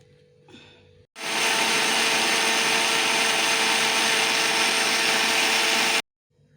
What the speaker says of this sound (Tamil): மிக்ஸி